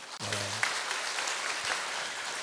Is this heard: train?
no